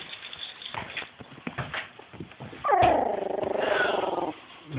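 A three-week-old puppy gives a soft, rough growl lasting a second or two, close by, after a stretch of indistinct handling noise and light sounds.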